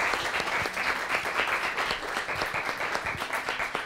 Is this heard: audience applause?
yes